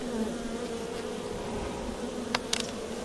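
Honeybees buzz steadily inside an open beehive, a close, continuous drone with a few sharp clicks and knocks toward the end.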